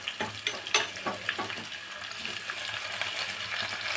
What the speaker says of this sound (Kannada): ಟೊಮಾಟೊನು ಚೆನ್ನಾಗಿ ಫ್ರೈ ಆಗಬೇಕು.